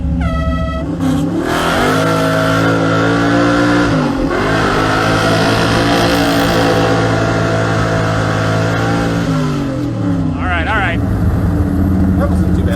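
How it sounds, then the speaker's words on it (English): A junkyard-built Mopar muscle truck with a manual transmission from a van accelerates hard in a drag race, engine roaring loud and close with rising pitch, a dip at the gear change, then climbing again, while people talk excitedly over it. "just mash the gas and go. I've got the all-new manual transmission. I'm going to have to shift gears"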